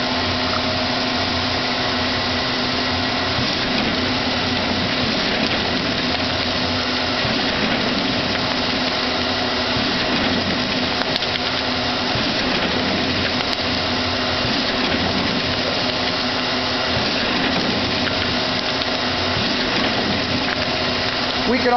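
Horizon MC-8 paper collator running a set of 11x17 sheets, a loud continuous mechanical whir and rumble held steady throughout.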